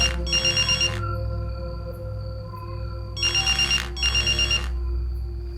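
A telephone bell rings in two bursts of double rings, loud and close, with a steady low hum between them.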